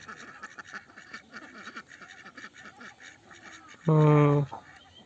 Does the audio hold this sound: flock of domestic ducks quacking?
yes